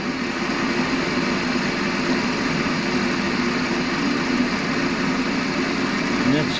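Vevor 600 mini lathe turning at about 700 rpm on a light spring pass, a steady close motor hum and whine holding constant for the full stretch.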